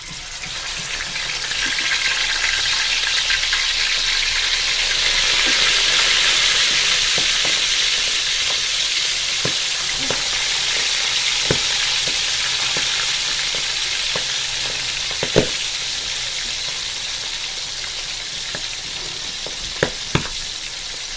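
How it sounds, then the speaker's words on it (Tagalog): Milkfish (bangus) frying in hot cooking oil gives a steady, dense sizzle with a few sharp pops and crackles near the end, close and fairly loud with no talking. "Ngayon ay mainit na ang ating mantika at ilalagay na natin ang ating bangus."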